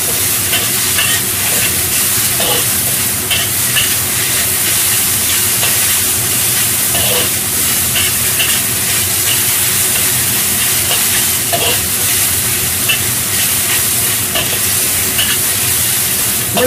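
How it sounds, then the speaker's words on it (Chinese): Mixed vegetables and instant noodles being stir-fried in a pan, with a steady loud sizzle and frying hiss throughout and the scrape of stirring now and then, no talking. "我等佢炒一炒佢"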